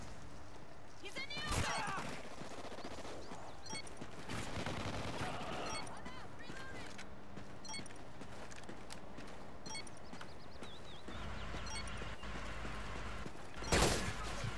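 Bursts of automatic gunfire in Call of Duty: Ghosts multiplayer, rattling volleys and sharp shots among other game sounds, with players talking over the action.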